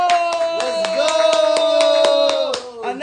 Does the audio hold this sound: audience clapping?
yes